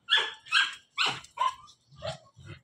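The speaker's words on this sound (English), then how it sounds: "And I can hear the dogs already." Four dogs bark and yip in a quick series of sharp barks, fairly close, with no talking, in the Philippines amid rising floodwater.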